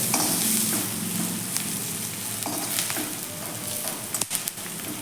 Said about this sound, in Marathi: आता आपण यामध्ये थोडीशी कोथिंबीर घालून घेऊयात कोथिंबीर पण छान अशी आपण यामध्ये फ्राय करूयात तेलावरती